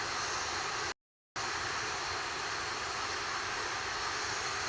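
An Atlas V 531 rocket's engines roar during launch of the NROL-101 mission, a dense, steady broadband rumble with one brief drop to silence, no voices heard.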